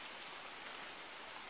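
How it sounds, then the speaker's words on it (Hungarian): Rain falling steadily onto a lake makes a dense, even hiss of countless drops, loud and unbroken, with no other sounds. "most itt látni, hogy a tón esik az eső"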